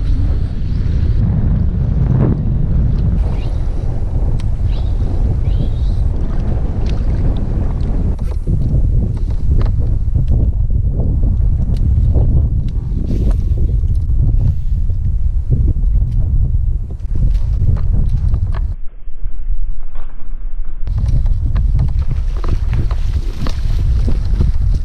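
Wind blowing hard across a fishing boat on the windblown side of an island, loud rumbling gusts buffeting close by, nearly continuous with a brief lull, no talking.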